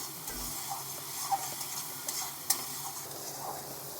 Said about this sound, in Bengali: তো ভালো করে আমি কষিয়ে নিচ্ছি